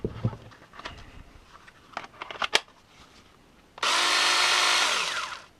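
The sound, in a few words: Parkside 20V cordless pruning saw running, chain brake check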